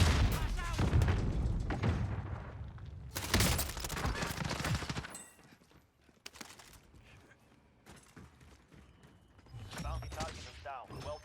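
Warzone battle sounds include a heavy grenade blast and bursts of gunfire, loud at first and then sporadic and fainter, with game voices speaking over the action.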